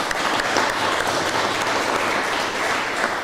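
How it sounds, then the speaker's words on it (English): Audience applause at a startup day event in Mexico City, a dense, steady wash of many hands clapping at close range that holds evenly throughout without pause. "A round of applause."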